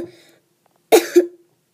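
A single close cough from a sick child, a short double burst, after a faint murmur of voice.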